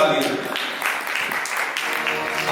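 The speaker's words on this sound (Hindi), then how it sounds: "बहुत जोरदार ताली।" A festival audience at an Arya Samaj annual celebration in Shahdara gives a loud, sustained round of applause to welcome guests onto the stage, dense steady clapping with voices mixed in.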